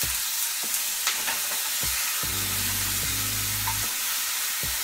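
Sausage patties fry in a pan, giving a steady loud sizzle with a few brief clicks and low utensil scrapes, no talking.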